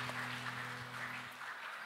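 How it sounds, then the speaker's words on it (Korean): A congregation at a Sunday youth worship service in a church claps together, a steady, dense wash of applause held at an even level over a low electrical hum. "박수로 서로의 삶을 응원하며 축복합니다."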